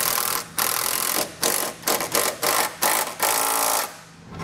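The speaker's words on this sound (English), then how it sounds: "we'll come back with a 7/16 socket and wrench and tighten this down" A socket and wrench tighten a nylon lock nut on a bolt while a Draw-Tite trailer hitch receiver is fitted to a 2021 Chrysler, heard as close, loud ratcheting bursts in a quick irregular series separated by short pauses.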